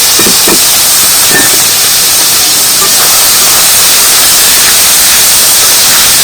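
Loud, steady hiss of boiled mushrooms hitting hot oil, a dense continuous sizzle with a few faint clicks early on.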